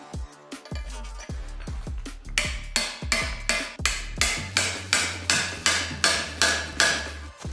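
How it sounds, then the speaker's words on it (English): A hammer repeatedly strikes the catalytic converter core inside the exhaust header of a 2023 Triumph Street Triple 765. The blows are loud, sharp and metallic, speeding up into a steady rhythm of about two per second, close by, with no talking. "So instead of hammering it out, which didn't work all that good"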